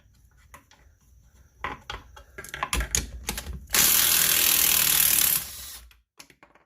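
Ratchet working stainless bolts set in the aluminum housing of a Hayward Super Pump motor, with scattered clicks and clacks building into a loud, steady burst of rapid ratcheting for about a second and a half, then a few trailing taps.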